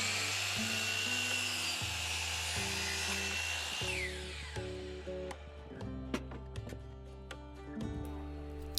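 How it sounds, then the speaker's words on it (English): A power saw cuts through a sheet of half-inch blonde plywood from Lowe's with a steady loud whine that drops off as the blade slows, followed by scattered clunks and knocks. "The first thing that I'm doing here is cutting my plywood."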